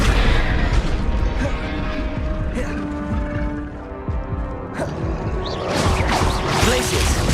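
Spell-casting explosions in the video game Hogwarts Legacy: repeated booms and crackling bursts over a dense, loud background of game sound, with a voice speaking over the action.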